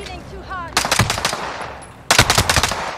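Rapid automatic gunfire in the video game Warzone Rebirth, two loud close bursts of many quick shots separated by a short pause, with a faint voice early on.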